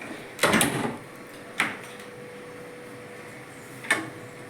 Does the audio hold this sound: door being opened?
yes